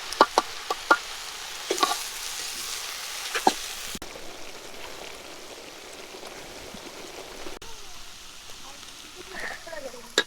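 Water spinach (kolmi shak) with chopped garlic, chilli and salt frying in a pan, a soft steady sizzle with scattered stirring clatters and taps, moderately close, a voice speaking intermittently over it.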